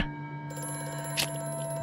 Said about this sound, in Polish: Znowu ten telefon.